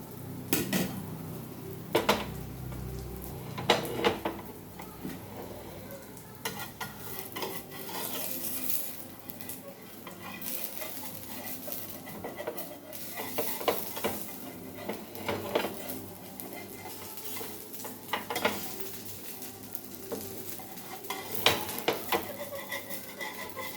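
Drumstick leaf dosa being turned in a frying pan, with repeated metallic scrapes and clinks of a spatula against the pan over a faint background sizzle, close and fairly steady throughout.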